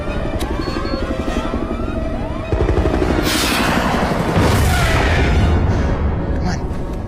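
Action movie battle: booming gunfire and explosive blasts mixed with the whir of a helicopter, dense and loud throughout with rising bursts near the middle.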